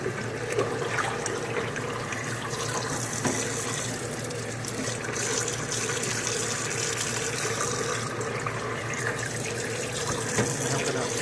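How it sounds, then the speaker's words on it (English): Tap water runs steadily into a pot of boiled eggs, refilling it with cold water to cool them; a continuous broadband gush of flowing water lasts throughout at a close, even level with no talking. "So let water run in there."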